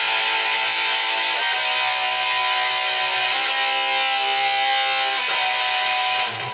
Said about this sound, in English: let it ring out like as if you were doing the clean tone,